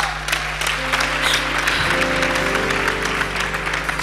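Church congregation applauding at a deliverance service, a steady wash of clapping hands over a low sustained hum, with no clear voices on top.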